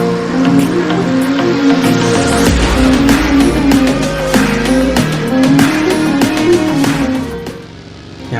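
A two-seater McLaren car in the game BGMI (PUBG) drives with a steady engine drone, tire noise and scattered sharp impacts or gunfire layered over it, loud and continuous throughout.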